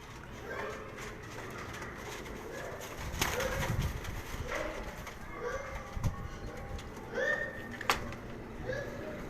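Pigeons coo repeatedly nearby in Karachi in soft low phrases, with children's voices and people talking in the background.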